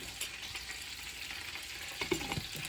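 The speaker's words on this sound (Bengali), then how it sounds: "চিকেন ফ্রাই করা শুরু করে দিছি" Steady sizzling of chicken frying in hot oil, with a few stirring scrapes near the end.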